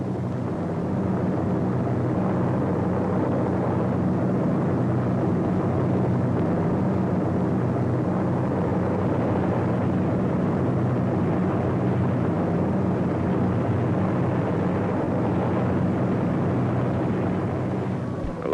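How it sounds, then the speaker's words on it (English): WWII Allied aircraft bombing the Normandy coast on D-Day, heard as a dense, continuous roar of engines and blasts, loud and unbroken throughout. "the invasion craft wait as Allied planes blast the coast."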